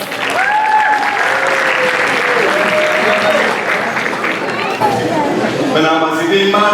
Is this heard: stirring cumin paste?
no